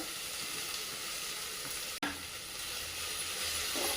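Sour sorrel leaves sautéing in a pan over low heat, a steady close sizzle and hiss with a short break midway before the frying noise resumes.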